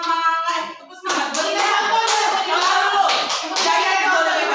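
A group doing the tepuk semangat clapping routine during an ice-breaking session: a chanted voice opens, then loud rapid rhythmic clapping follows, mixed with voices, close and lively.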